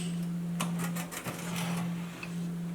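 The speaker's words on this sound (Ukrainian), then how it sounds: "ми відкриваємо наш принтер" An RX1 printer being opened to replace its paper roll: a steady low mechanical hum runs throughout, with a few light clicks and plastic taps from the housing, close but quiet.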